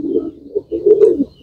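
A racing pigeon, kept for speed, coos in soft low rolling phrases close to the microphone, with a brief pause before a fuller, louder coo. No one speaks.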